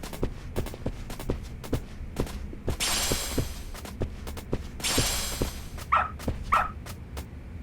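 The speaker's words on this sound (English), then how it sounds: "Good dog. Very good dog." A dog in the video game Lost Judgment, with footsteps trotting steadily throughout, two brief washy bursts, and a couple of short whimpering or barking yelps near the end; no talk.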